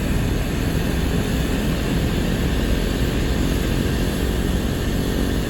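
A Black Square Caravan turboprop engine runs steadily after a cold start in Microsoft Flight Simulator 2024, a loud constant droning roar with a high turbine whine and no variation.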